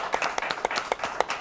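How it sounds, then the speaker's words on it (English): A studio audience at a school talk show claps together in a dense, lively burst of applause. Individual hand slaps stand out rhythmically through the steady patter, close and fairly loud, with no talking. "Let's have a nice round of applause for Emma Rennie"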